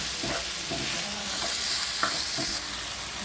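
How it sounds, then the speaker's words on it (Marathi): Goan chorizo stuffing fries in a pan with a steady sizzle, broken by repeated scraping stirs from a spoon. No one speaks. "हें सगळें स्टफिंग हांव फ्राय कोता तें बरें"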